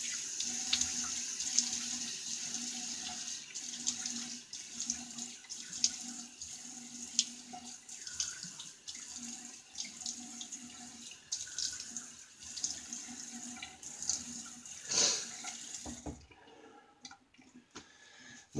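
A bathroom tap runs steadily while a face is wetted before shaving, a constant close hiss of water with small splashes and clicks, then it cuts off near the end.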